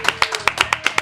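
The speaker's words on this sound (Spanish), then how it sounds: "Y aplauso de todos." A small group applauds at the end of a podcast, brief sharp claps in a quick, uneven patter at close range, lasting about a second.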